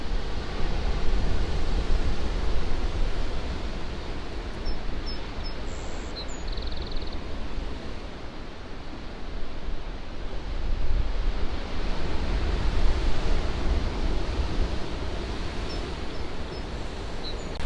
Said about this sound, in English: look at this surf coming in behind me